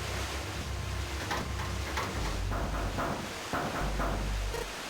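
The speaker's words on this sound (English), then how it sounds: "water began to pour into the room" Water pours and rushes into a flooding room in the Zero Escape: 999 video game, a steady dense wash of splashing and surging with no voices.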